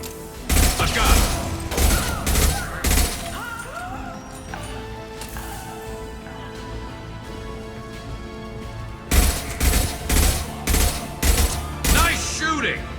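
Gunfire in Mass Effect 2 Legendary Edition comes as loud, rhythmic bursts of sharp shots at the start and again near the end. Between them is a quieter stretch of game music and effects, with voices in the mix.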